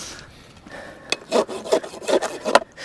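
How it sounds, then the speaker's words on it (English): An old farrier's rasp files a relaxed horse's hoof, making several close, gritty scraping strokes in an uneven rhythm that grow louder toward the end. "This is an old rasp."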